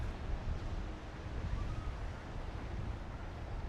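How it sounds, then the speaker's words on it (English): Big ocean waves surge around a ferry crossing from Bali, a steady low roar of rushing water mixed with wind buffeting the microphone, with no voices. "the waves are pretty big out there"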